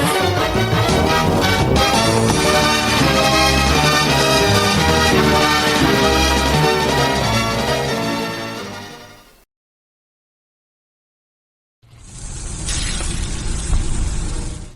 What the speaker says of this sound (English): That's the sound of sizzling, dry-aged USDA Prime Wagyu and Angus steaks from UpperCutChops.com